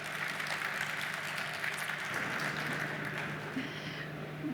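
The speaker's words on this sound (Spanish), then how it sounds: "la recibimos con un aplauso" Attendees at a food safety panel applaud to welcome a speaker, a soft, distant, continuous patter of clapping with a low steady hum beneath it.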